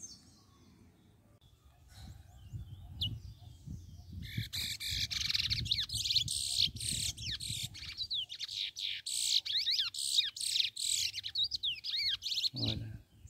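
A caged picolette songbird sings in the open air, bursts of bright, rapid chirps and trills repeating steadily from about four seconds on, close and clear above a low rumble of background noise.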